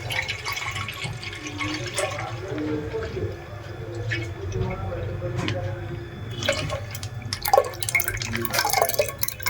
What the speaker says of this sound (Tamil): பால் ஊற்றிக்கலாம் பொங்கலுக்காக.